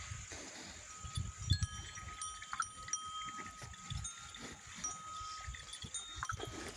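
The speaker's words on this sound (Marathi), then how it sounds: "पूजा चालू असताना बैल नैवेद्य खाण्यासाठी ओडताड करत आहेत" Bulls tugging and jostling to reach the food offering during an outdoor farm puja, heard as faint, irregular shuffling, snorting and low thumps, with thin high tones ringing above them.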